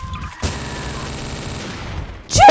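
Rapid automatic gunfire from an admin gun in Garry's Mod rattles in a dense, steady burst for about two seconds, then stops sharply before a louder final blast.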